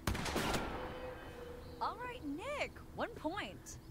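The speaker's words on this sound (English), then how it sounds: "Alright, shoot the one on the left. And I'm gonna get blasted back by the recoil." Gunfire in the video game The Quarry, with a quick burst of shots at the start that fade, followed by people talking over the game.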